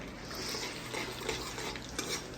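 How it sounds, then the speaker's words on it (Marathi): Cumin seeds frying in hot oil in a pan on a low flame, a faint steady crackle and sizzle with light stirring scrapes and no talk. "जिरे टाकलेत दादाने"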